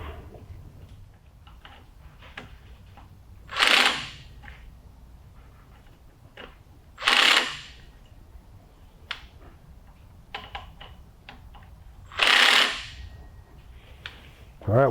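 An impact wrench tightens the power steering pump bolts during an LS Victory Series kit install. It gives three short, sharp rattling bursts separated by quiet pauses, and a fourth begins right at the end. It sounds close and loud against a faint shop background.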